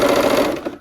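A brief close burst of a sewing machine running along a quilt-block seam, a steady whirring hum that slows and trails off within a second.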